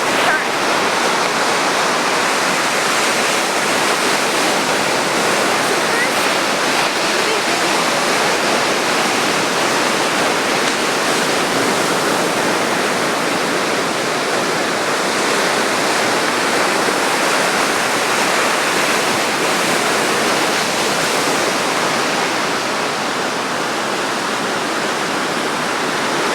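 Steady, dense roar of ocean surf on Oahu's north shore, a loud continuous wash of breaking waves with no distinct individual crashes, heard alone.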